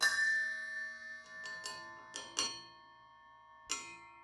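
Several Meinl and Stag Black cowbells of different pitches are struck one at a time, each ringing out and decaying, with short gaps between hits.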